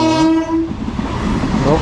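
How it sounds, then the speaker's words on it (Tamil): A local train on the Coimbatore–Palakkad line sounds a loud horn blast near a level crossing, then rumbles past with close, clattering wheels, no talking. "ட்ரெயின் வந்துட்டுருக்கு."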